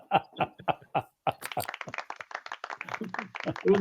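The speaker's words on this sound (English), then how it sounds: "Golf clap." A few slow, soft, widely spaced claps in a deliberate golf-clap rhythm, then quiet chuckling and murmured talk follow close to the mic.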